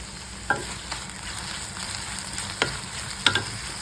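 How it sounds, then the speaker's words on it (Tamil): Chopped onion sautés in a pan for a chicken fry, with a steady soft sizzle broken by a few sharp clicks and scrapes of the stirring spoon, close and without voices. "ஒரு பெரிய வெங்காயத்தை நான் இதில் ஆட் பண்ணுறேன்"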